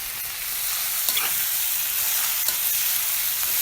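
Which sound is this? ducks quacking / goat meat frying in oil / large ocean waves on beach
goat meat frying in oil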